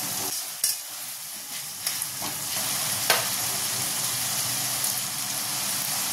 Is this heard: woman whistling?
no